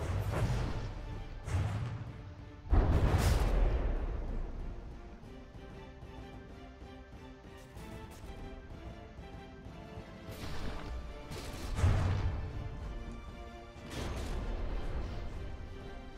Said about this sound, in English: It looks like the Funkrome is still firing its volleys at the spawn stick of the Tempest there.